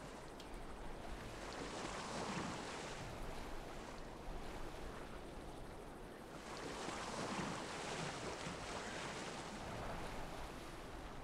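Boat gliding along a river in Assassin's Creed Valhalla, with a steady broadband rush of water and wind that swells and eases in slow waves, continuous and fairly faint, with no voices.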